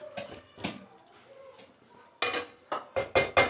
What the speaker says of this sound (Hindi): तो अब मैं डालूँगी इसमें टमाटर